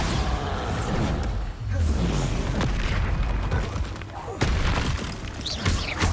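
Bombarda spell blasting in the Hogwarts Legacy video game, a loud booming explosion with crackling debris bursts that fill the whole clip, with a brief spoken line over the start.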